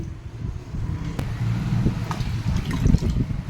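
Fresh water is poured into a vessel of washed toor dal, a close, gurgling, splashing pour that runs steadily for a few seconds.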